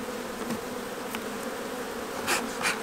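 Honeybees shaken off a hive frame into a box give a steady close buzzing hum, with a few sharper swells of buzzing toward the end as the mass of bees drops and stirs.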